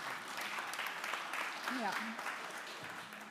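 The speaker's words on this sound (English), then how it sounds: "So let's give her a round of applause." Audience applause for a storyteller and author at an education faculty reading event, a steady wash of clapping under a short spoken word and a brief voice.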